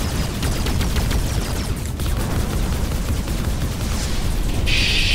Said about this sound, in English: Oh, that's a power gun.